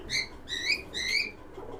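Pigeons, high-flying and fancy breeds kept for sale, give three bright warbling calls in quick succession, close and moderately loud, with no talking.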